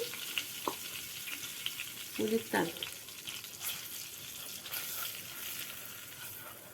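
A low, steady sizzle of flour frying in ghee with a few stirring scrapes, while a person briefly speaks over it.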